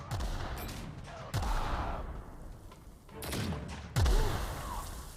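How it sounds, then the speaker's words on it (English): Bursts of gunfire in The Outer Worlds video game come as loud, repeated volleys of booming shots with heavy low thumps, close and intense throughout. "Returning fire."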